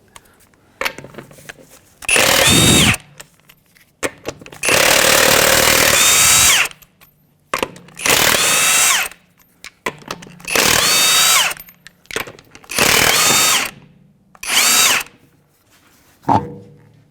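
A power tool with a 22mm socket removes a wheel from a 2011–2017 Honda Odyssey. It fires in six loud bursts lasting one to two seconds each, with quiet gaps and light handling noises between them.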